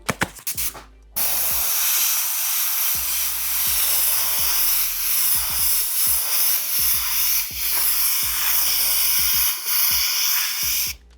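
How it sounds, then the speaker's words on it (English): An airbrush sprays paint in a steady, close, loud hiss, laying down a fire design along the bottom of a piece. The hiss runs almost unbroken with small dips, after a short clatter at the start. "So we're gonna airbrush this, and we're gonna do the fire on the bottom."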